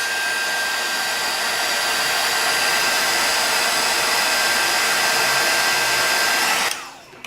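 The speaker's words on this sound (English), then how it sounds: "Grab my heat gun and let it dry a little bit." A heat gun drying paint on an altered magnifying glass craft piece, a loud steady blowing whir with a thin high whine that runs unbroken, then cuts off abruptly near the end.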